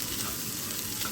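Cooked rice goes into a hot pan for fried rice, producing a continuous, close, loud sizzle of frying with faint stirring.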